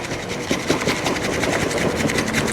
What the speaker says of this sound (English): you just want to whisk it so you can hear that noise there